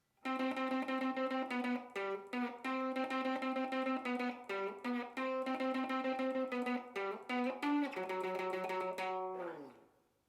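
A distorted electric guitar plays the intro riff of a song, driving chugging notes with short gaps, ending on a sliding note that fades out.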